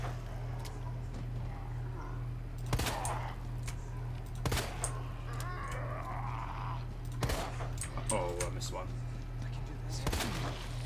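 Sharp handgun shots from the stronger pistol in the Resident Evil 2 remake, four punchy reports spaced a few seconds apart over a steady droning game ambience with scattered smaller effects.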